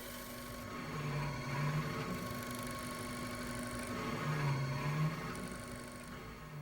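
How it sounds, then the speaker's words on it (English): A CNC machine cutting a motor mount part gives off a steady mechanical hum with a sustained tone, a faint rising whine that comes and goes twice, and a constant even drone without voices. "these are some of the operations the CNC performed to machine my piece"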